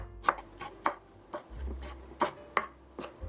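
Knife finely chopping fresh cilantro on a cutting board for meat patties, a slow, irregular series of crisp, close taps with brief pauses between strokes, no talking.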